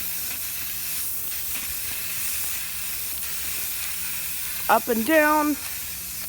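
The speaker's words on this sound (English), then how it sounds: "So once it's shaken up, I'm going to aim at my pin and just give it an even coat as possible." Aerosol spray paint hisses onto a bowling pin in a steady, faint rush, with a brief spoken remark near the end.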